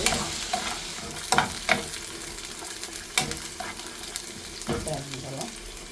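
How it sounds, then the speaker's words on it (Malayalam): Dried red chillies roast in a pan for tomato chutney, with a soft sizzle and intermittent scraping stirs of a spoon against the pan, close and fairly quiet. "അതുപോലെ ഈ മുളകൊന്ന് മൊരിഞ്ഞ് വരട്ടെ"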